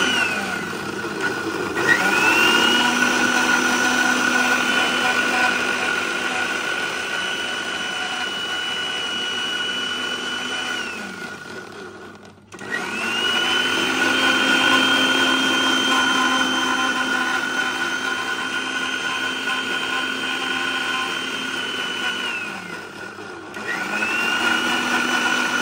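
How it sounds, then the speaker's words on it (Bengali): A blender whirs loudly and steadily, crushing tender tamarind leaves with sugar and a glass of water into juice, running in two long continuous bursts with a brief pause between them. "তো এবার আমি ভালোভাবে ব্লেন্ডার করে নেব।"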